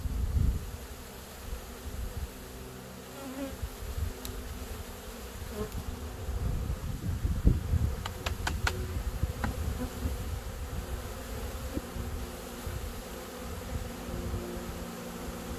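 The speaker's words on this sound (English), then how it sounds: "We won't give our little bees here another little shake." Honey bees buzzing steadily as they are shaken and dumped into a hive, a close, moderate drone with brief thuds and rustling handling sounds, no speech.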